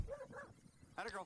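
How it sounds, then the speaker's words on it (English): A nervous Border Collie near cows gives a few short, soft barks and yips, close by, mixed with brief whimpering sounds, with some background noise between. "You can hear her barking a little bit here."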